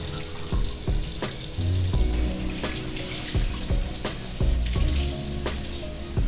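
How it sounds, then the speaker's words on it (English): Cold tap water runs and splashes into a sink as dyed clothes are rinsed, a steady rushing stream broken by irregular sloshing and knocking from handling the fabric, with no one talking. "I'm gonna rinse everything with cold water"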